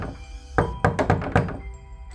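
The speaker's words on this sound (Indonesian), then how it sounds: "sesaat kemudian ada yang menggedor pintu kamar mandiku." Heavy fists pounding on a bathroom door, a fast cluster of five or six loud, close thuds in just over a second, with no voices.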